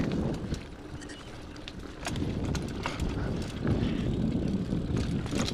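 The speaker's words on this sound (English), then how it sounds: "I wrecked my bike. I mean, you can already hear it's pretty wrecked" A wrecked bicycle rattling and clattering over a bike trail while ridden, with irregular metallic knocks and constant rumbling noise close by; no speech.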